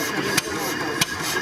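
A vintage engine at a retro motor show and flea market runs at a steady idle close by, with two brief sharp pops breaking the even drone.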